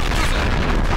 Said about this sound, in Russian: О, нормально там артиллерия, гасит.